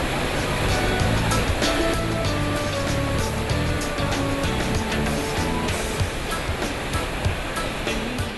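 Dense, steady roar of rushing water from the Iguazu River falls and rapids, a loud broadband wash that holds constant throughout with no pauses.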